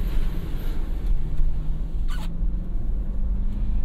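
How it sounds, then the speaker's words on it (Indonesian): Low, steady engine rumble heard from inside a 2010 Toyota Land Cruiser VX 4.6 L accelerating, with a muffled hum building slightly and a brief soft click partway through. "Kita tes akselerasi lagi"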